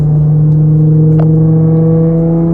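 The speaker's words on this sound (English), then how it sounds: "This car's so loud beside me." A loud car engine drones right up close, a steady low hum that holds evenly for the whole stretch.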